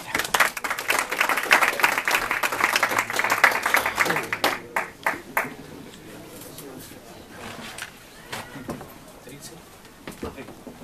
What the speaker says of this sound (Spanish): Le damos, por favor, un fuerte aplauso a Juanma